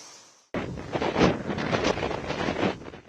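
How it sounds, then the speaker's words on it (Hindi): Strong wind gusting along the Tamil Nadu coast during a cyclone, with waves, a loud continuous roar that swells and buffets after a brief quieter opening. "वहां के तटीय इलाकों में तेज हवाओं के साथ लहरें आ रही थीं।"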